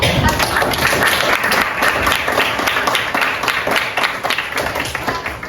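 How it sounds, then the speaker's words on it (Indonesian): Students in a high school classroom in Samarinda clap their hands together, a dense, loud burst of applause that continues steadily and tapers slightly toward the end. "Oke, kita tepuk tangan dulu."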